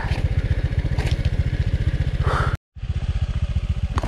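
A scooter engine labours up a rocky hill on rough terrain, buzzing loud and close with a fast, even throbbing beat, then cuts out briefly before restarting.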